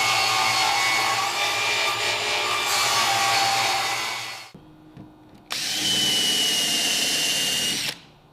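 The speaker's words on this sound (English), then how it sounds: "Just finished drilling and countersinking all the holes." A power drill bores and countersinks holes in a wooden barn door, running loudly for about four seconds, pausing briefly, then whirring again for a few more seconds before stopping.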